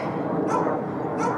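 A dog barks and yips in a few short bursts while herding Oregon Mini Geese on their first day being worked, fairly close, over steady outdoor background noise.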